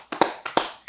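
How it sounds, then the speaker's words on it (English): A handful of sharp, close hand claps in a small home podcast setting, five quick slaps in uneven pairs, loud and dry with no voices over them. "Let's give a round of applause to Alyssa."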